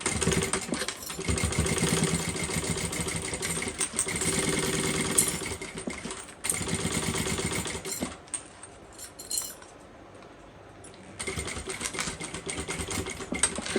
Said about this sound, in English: Okay, and then we go ahead and sew down here again.